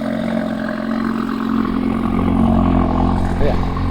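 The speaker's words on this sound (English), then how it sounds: "Since ever since the exhaust thing, I feel like it revs a little deeper." A car with a modified aftermarket exhaust hums and revs with a deep, rumbling drone that swells slightly toward the end, heard close up under ongoing conversation.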